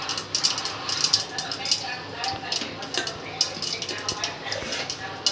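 Mustard seeds, cumin and sesame temper in hot oil for handvo, making a dense crackling sizzle with quick popping ticks. Voices murmur underneath now and then.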